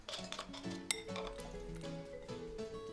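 Tuna and finely chopped onion mixed in a bowl, a utensil clinking and scraping against the dish in quick, light strokes, close and fairly quiet.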